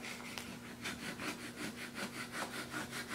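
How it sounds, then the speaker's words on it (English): A vinyl squeegee presses a vinyl decal onto a wall in quick repeated rubbing strokes, about ten in a steady rhythm, close and faint. "And I squeegee it onto the wall."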